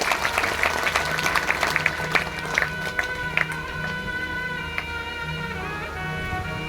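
Audience applause welcoming someone onto the stage at a Hindu devotional gathering: steady clapping from many hands fills the whole stretch, with a low musical drone and tones running beneath and little or no talk.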